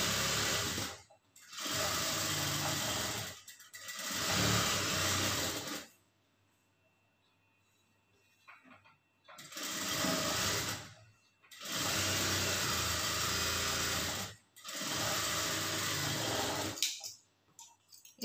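Stitching a blouse, a sewing machine runs in four bursts of a few seconds each, separated by pauses of near quiet, one of them long. The whirring is close and steady within each run.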